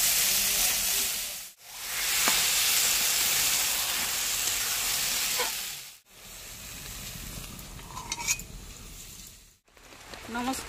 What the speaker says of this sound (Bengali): চিংড়ি মাছগুলো ভাজা হয়ে গেছে